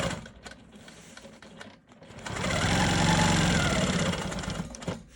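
A sewing machine quilts diagonal lines across an economy block, at first with lighter stitching chatter and then with a sustained, close whirring run of rapid needle strokes that stops abruptly at the end.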